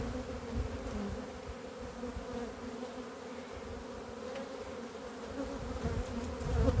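Honeybees buzzing at an opened hive, a steady, fairly quiet drone of many wings holding throughout with no talk, swelling slightly near the end.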